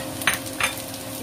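Beef fried rice with spring onion being stirred in a hot pan, giving a steady sizzle broken by two brief scraping stir strokes, close and fairly quiet, with no voices.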